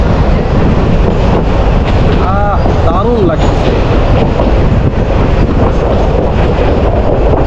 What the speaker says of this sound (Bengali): এই যে জানালার পাশের যে বাতাস, এটা কিন্তু খুবই সুন্দর লাগছে